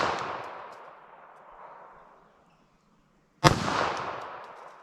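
.380 ACP pistol shots fired outdoors at a 75-yard target: a sharp, loud report near the end following the decaying tail of an earlier shot, each trailing off in a long echo.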